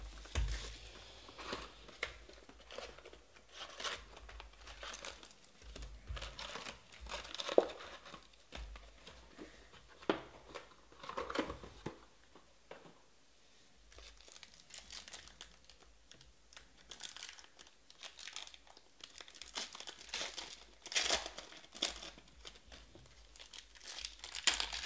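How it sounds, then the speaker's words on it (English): Foil packs of 2019 Panini Donruss Optic football trading cards being torn open and handled, with soft crinkling, tearing and rustling at close range, quiet and irregular throughout. "I like it when the packs open and they sound like a zipper."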